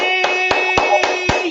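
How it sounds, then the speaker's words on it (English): A handful of loud hand claps at a steady pace, about five sharp strikes, ringing over a sustained tonal hum during a live interview broadcast. "So let me give you some claps to Giovanni."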